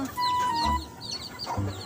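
A young rooster (stag) clucks close by in a few short, throaty bursts, with other soft bird sounds in the background.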